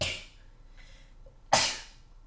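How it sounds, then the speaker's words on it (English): A single sharp sneeze near the end, preceded by a quick breath and faint shuffling, close and fairly loud against a quiet room during a Modern Combat 5 mobile game session. "I just sneezed."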